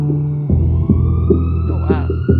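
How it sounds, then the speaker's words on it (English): A siren effect in a song wails upward over a throbbing bass beat with punchy hits, short and loud. "Sirens."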